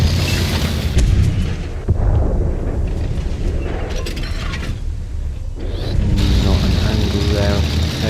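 A tank gun fires in World of Tanks, a console tank battle game: a heavy boom and crash cut through a dense, loud mechanical rumble of engines and tracks, with clanking and a voice speaking over the din.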